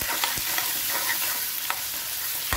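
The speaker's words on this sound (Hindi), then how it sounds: "अब बस प्याज के साथ हम ये मसालों को भूनने देंगे अच्छे से" Onions with turmeric, red chilli and salt frying in a pan, a dense steady sizzle broken by a few sharp stirring scrapes, close and without talk.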